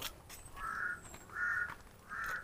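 Three harsh caws from a crow, spaced evenly about a second apart, fairly close, against a quiet outdoor background in a forest.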